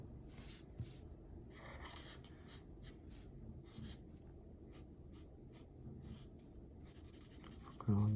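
A pencil or marker scratches and rubs across paper while manga-style Dragon Ball hair is coloured, giving short repeated close strokes in an irregular rhythm against quiet surroundings.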